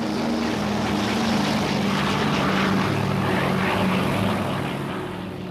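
A Beechcraft propeller aircraft lifts off, its engine and airscrew making a loud, steady, close droning roar that holds evenly throughout and eases slightly at the end, with no voices.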